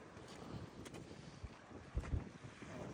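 Wind buffets the microphone in steady gusts while sea waves wash below at the Titanic memorial in Cobh, Ireland, with a few heavier rumbling swells and no voices.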